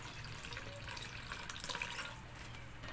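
Pure coconut milk pours steadily into a hot, oiled pan, giving a continuous watery trickle and splash that runs for the full few seconds at moderate, close loudness.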